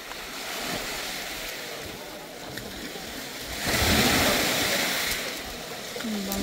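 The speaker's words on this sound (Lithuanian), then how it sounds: "Bangos." Sea waves washing against the shore below cliffs at Sa Calobra in Mallorca, a steady broad rush with wind buffeting the microphone, swelling louder midway as a bigger wave breaks.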